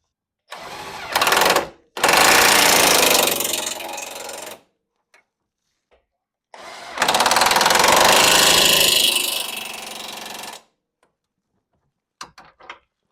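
A ratchet or impact tool tightens ball joint bolts on an 8th-generation Honda Civic Si's lower control arm and spacer, running in two loud mechanical bursts of several seconds each with quiet gaps between and faint clicks at the end.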